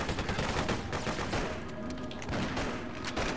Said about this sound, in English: Oh, we'll grab a submachine gun.